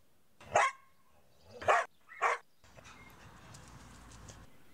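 Three sharp dog barks in quick succession, fairly close, followed by a low, steady background hum.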